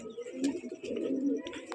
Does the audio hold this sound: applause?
no